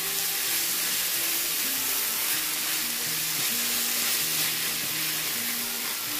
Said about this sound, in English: Stir it on nicely, let it get roasted.